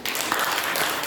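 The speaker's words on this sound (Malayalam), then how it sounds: "അപ്പൊ സിസ്റ്റർ നല്ലൊരു കയ്യടി കൊടുത്ത്" Audience applause at a catechism Christmas celebration for a sister, a brief burst of many hands clapping, steady and dense throughout.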